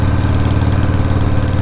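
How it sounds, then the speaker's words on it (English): A Harley-Davidson Shovelhead 80 motorcycle engine running steadily, a loud close low throb with even firing pulses and no talk. "the bike is running really well"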